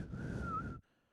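A single sustained whistled tune imitating the eerie whistle from the 2019 horror film Us, steady and fairly close for under a second before cutting off abruptly into near silence.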